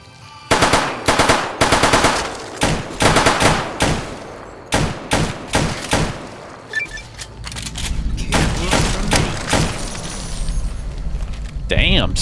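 Rapid bursts of automatic gunfire and single shots ring out loudly in the video game Fallout: New Vegas, repeated volleys followed by sustained firing, with a voice briefly heard among them.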